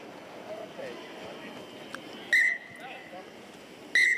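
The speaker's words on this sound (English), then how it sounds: "There's the half-time whistle." A referee blows two short shrill whistle blasts at the end of the first half of a Zebre v Ulster rugby match, heard over crowd noise with commentary running underneath.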